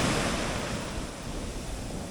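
Soft, steady wash of sea surf on a beach in Chanthaburi, Thailand, a faint continuous rushing hiss of waves with no voices.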